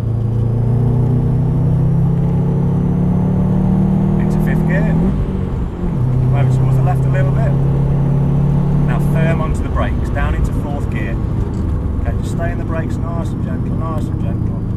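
Subaru car driving around cones on a course, engine rumble rising and falling as it accelerates and eases off, while an instructor talks over it throughout.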